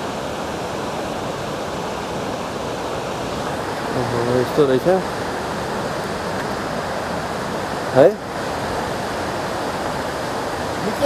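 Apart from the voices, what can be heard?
river flowing below the road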